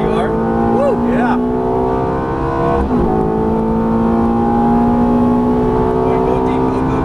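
A Ferrari F430 engine drives hard on a track with a loud, sustained high-pitched tone that climbs steadily in pitch, dips briefly once, then climbs again, heard close and continuous with faint talk beneath.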